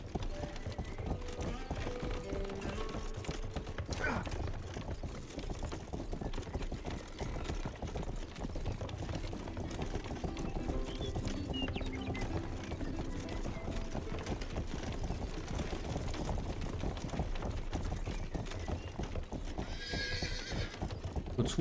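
A horse in the video game Rustler gives steady clip-clop hoofbeats with neighs and whinnies over a dense, busy game soundscape, continuous and fairly loud throughout.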